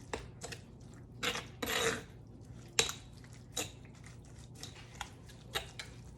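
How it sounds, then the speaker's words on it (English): A spoon scrapes and knocks inside a stone molcajete while mixing salsa, giving a series of short gritty strokes and taps, close and fairly quiet, with one longer rasping stir in the middle. "And then I'm going to use a spoon to mix this up."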